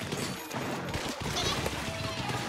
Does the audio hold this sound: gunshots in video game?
yes